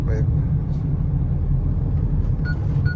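Mahindra Thar Roxx rolling through traffic, a steady low road and engine rumble from inside the cabin as it brakes automatically for a bike ahead, with faint talk over the drone.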